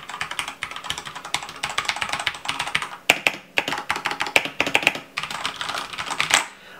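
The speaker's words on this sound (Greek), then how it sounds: "Τα red switches ακούγονται ελαφρώς, όχι πάρα πολύ έντονα, έχουν όμως εκείνον τον κλίκι θόρυβο," Typing on a CoolerMaster Quickfire Ultimate mechanical keyboard fitted with red switches: rapid, irregular bursts of close, crisp key clacks with brief pauses between flurries.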